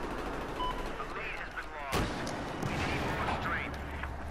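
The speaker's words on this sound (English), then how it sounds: "Someone is shooting, but where is he shooting?" Gunfire crackles through a video game team deathmatch, shots scattered across the clip with a sharper burst near the middle, set against a dense, noisy background of game sounds.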